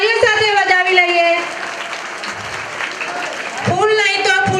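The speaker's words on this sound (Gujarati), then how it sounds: "ખૂબ સરસ, તાળીઓ સાથે વધાવી લઈએ।" Audience at a village primary school Republic Day prize ceremony claps in a sustained burst, mixed with loud voices and tonal vocal sounds from the crowd and announcer, fairly close.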